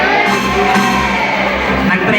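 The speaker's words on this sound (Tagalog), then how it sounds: "Ang sigaw ng kabataan!" A large, young crowd shouts, whoops and cheers loudly and without pause at a beauty pageant question-and-answer segment, a dense wall of voices filling the hall.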